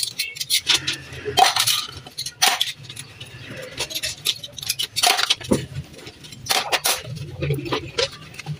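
Plates and cutlery clink and patter in a sink during dishwashing, with irregular bursts of clatter and splashing close by, with no voice over them.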